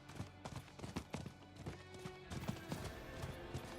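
Horse hooves clip-clop in a video game in an uneven trotting rhythm, faint and set against game music and ambience.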